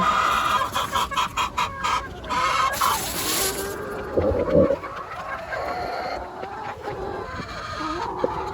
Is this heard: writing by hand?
no